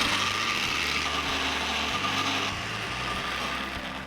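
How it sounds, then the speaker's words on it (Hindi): A kitchen grinder whirs as it blends hung curd, a small piece of garlic, pepper, salt and lime juice into a dip, a steady close mechanical drone with a rhythmic rattling pulse and no talking. "Cover it and grind."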